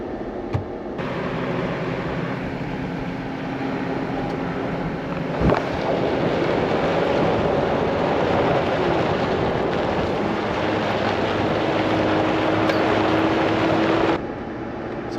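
Off-road vehicle rolling steadily down Pipeline Road, a desert dirt road running parallel to the Mojave Road in the Mojave Desert, giving a continuous loud rumble with wind buffeting, a brief knock around the middle, and no talking.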